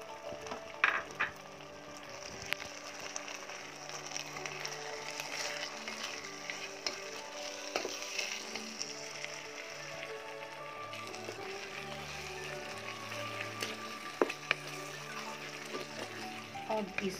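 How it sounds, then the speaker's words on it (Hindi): Turmeric, red chilli powder, garam masala and salt being stirred and fried in a pan for homemade chicken biryani, a soft continuous sizzle with occasional scraping, sitting under steady background music. "अब इसको आपको अच्छे से चला के भूनना है 2 मिनट तक।"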